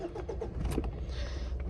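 Mitsubishi Triton diesel engine cranking and starting with a delay on a cold morning, carrying a P0118 fault code; the steady, rough mid-pitched cranking churns close and loud before the engine catches.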